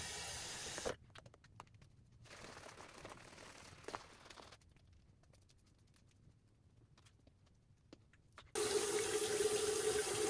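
Water pours and splashes into a shaving bowl in bursts, dropping to quieter trickles in between, then a louder steady rush of running water at the end.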